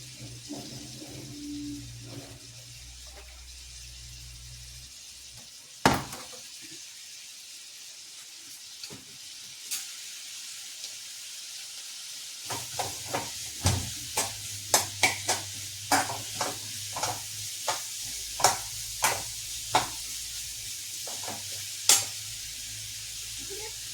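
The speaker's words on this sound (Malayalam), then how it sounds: "സവാളയും കൂടി ഞാൻ ഇപ്പുറത്ത് വഴറ്റാൻ വെക്കുന്നുണ്ട്" Sliced onions sautéing in a pan on the stove, a steady close sizzle with a run of regular scraping stir strokes and spoon taps against the pan.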